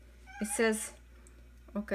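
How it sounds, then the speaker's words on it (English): A cat meows a couple of times close by, mixed in with a person speaking briefly. "sorry about my cat. When I videotape and talk loud, he always meows for some reason."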